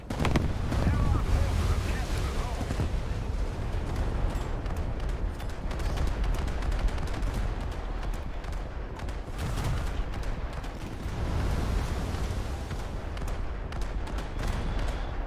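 British cruiser anti-air guns in a naval combat game firing at a Stuka dive bomber, a continuous dense rumble of gunfire and wind-like roar with rapid cracks, loud and sustained throughout, with a voice talking over it at times.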